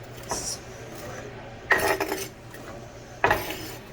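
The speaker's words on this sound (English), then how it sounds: "I'm going to put the onions in there." Onions go into a cooking pot for shrimp and grits with three sharp metallic clinks and clatters of utensils against cookware, spaced about a second and a half apart over a quiet kitchen background.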